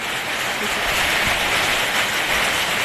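Rain falls with gusting wind over a freshly sown rice field, a dense, steady hiss that stays loud and close, with no talk.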